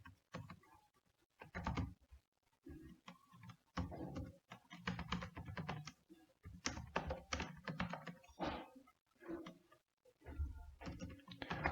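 Rapid bursts of typing on a computer keyboard, close and fairly quiet, with irregular clusters of key clicks separated by short pauses throughout.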